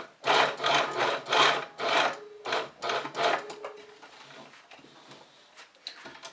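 A sewing machine stitches a box X pattern across fabric, running in several short rhythmic bursts with brief pauses as the piece is turned, close and fairly loud.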